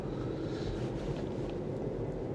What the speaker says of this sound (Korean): 1600cc 엔진음, 약간은 거친 듯한 느낌이 듭니다.